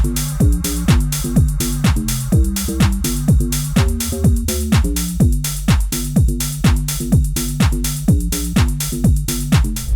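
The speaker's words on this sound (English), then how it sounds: "So we add the shaker" A steady deep house beat with punchy kicks on every beat, a bright ticking shaker and shimmering ride cymbal layered over a bass line.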